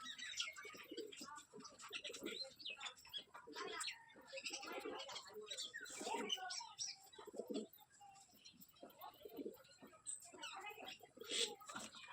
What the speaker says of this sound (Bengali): আমাদের পুরনো গিরিবাসটা নতুন একটা পাড়াতে খুব ডাকাডাকি করছে।